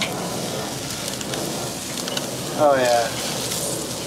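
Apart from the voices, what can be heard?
chicken drumsticks sizzling as they sear on a Weber charcoal grill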